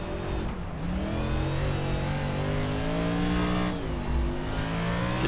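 A 3,500-pound race car driving on the Bristol dirt track in iRacing: a steady, loud engine drone with rising and falling revs, close and continuous throughout.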